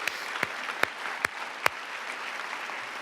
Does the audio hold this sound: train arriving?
no